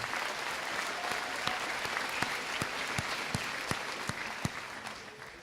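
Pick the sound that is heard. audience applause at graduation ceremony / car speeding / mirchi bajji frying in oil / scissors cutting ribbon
audience applause at graduation ceremony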